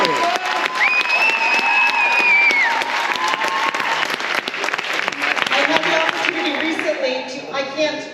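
Audience clapping and some cheering fill a school board meeting room, sustained and loud throughout, with a whistle and crowd voices mixed in and people talking over the applause near the end.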